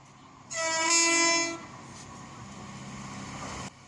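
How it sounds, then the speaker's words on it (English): A train horn sounds one steady blast of about a second over the low rumble of a passing train. "Quite a few of the train drivers beat their horns"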